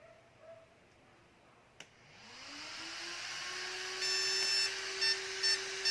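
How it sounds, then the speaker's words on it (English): A SkyRC Cheetah ESC for a drift RC car, undergoing calibration, gives repeated high beeps in a steady run over a rising electronic whine, close and fairly quiet, with no talking. "it's going to beep continuously, and that's the time we are ready for calibration."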